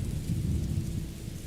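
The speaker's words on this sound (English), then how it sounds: "It could simply be because it's raining" Steady rain with rolling thunder in the video game Morrowind, a loud continuous low rumble over a hiss of rainfall throughout, with no talking.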